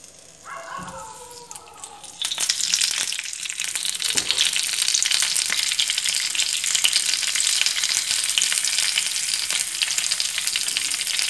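Curry leaves hit hot oil already crackling with mustard seeds, a few faint pops giving way to a loud, steady sizzle that holds on without a break.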